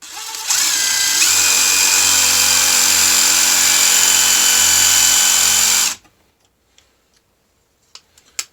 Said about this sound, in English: I'll screw this in.